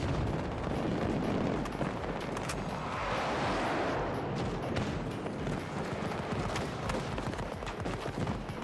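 A sentry gun firing in the video game Battlefield 2042, dense rapid shots and booming impacts forming a continuous loud barrage amid heavy battle noise.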